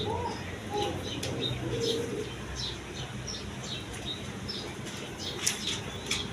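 Pigeons kept for sale make a few soft coos and repeated wing flaps and flutters, with scattered chirps over a constant background hum.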